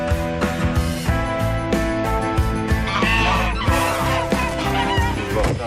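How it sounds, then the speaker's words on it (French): Male geese honk loudly and repeatedly at close range, a harsh flurry of calls over a busy, noisy background. "Ça, c'est pas des canards, ça. C'est des jarres."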